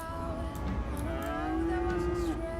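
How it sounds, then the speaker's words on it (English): Cows in the city-building game Cities: Skylines give a loud, drawn-out moo that lasts nearly the whole moment, heard close and clear over a low background. "Oh, those cows are loud."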